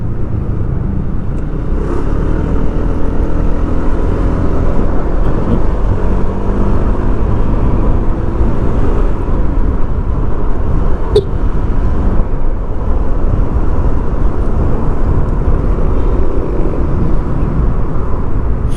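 A Honda Click 160 scooter engine fitted with 17 or 19 gram fly balls revs at high RPM, giving a loud, steady, close-up drone with a brief sharp click near the end.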